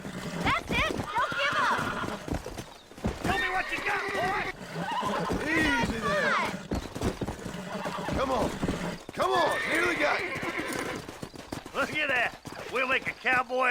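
A horse is broken in within the Red Dead Redemption video game, whinnying and clip-clopping while people talk and shout encouragement almost throughout.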